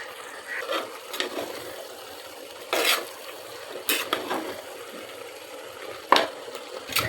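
Beef being stirred in a pressure cooker, a soft sizzle underneath scattered scraping and clinking strokes of a utensil against the metal pot, irregular and close.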